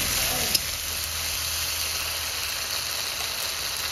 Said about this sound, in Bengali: কেটে রাখা টমেটো কাঁচা লঙ্কা দিয়ে দেবো তেলে